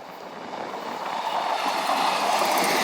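A train rumbles past at a distance, a broad rushing roar that slowly builds louder over a few seconds, mixed with wind noise.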